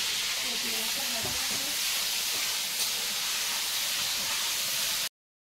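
Tomatoes added to frying onions sizzle in a pan while cooking chicken biryani, a steady close hiss with a few soft stirring knocks and a brief murmur of voices.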